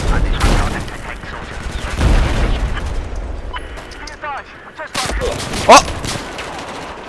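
Battlefield 4 combat with bazooka blasts and bursts of gunfire, loud close booms and rapid shots in irregular clusters, with a brief shouted exclamation.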